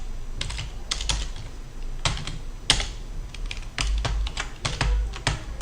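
Typing on a computer keyboard during a programming lesson, with irregular bursts of close, crisp key clicks and brief pauses between runs, and no voice over it.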